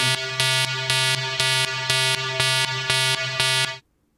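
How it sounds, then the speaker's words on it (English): An alarm blares in a steady pulsing pattern of loud buzzing bursts about twice per second, then cuts off abruptly into silence. "somebody set off the alarm"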